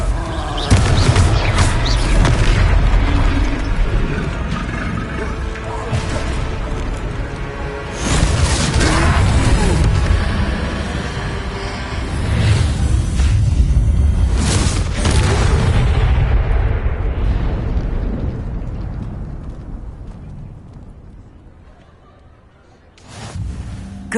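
Confringo spell explosions in Hogwarts Legacy erupt in a battle against a troll, a series of loud booming blasts and crashes over rumbling game noise, fading toward a quiet end with a final burst.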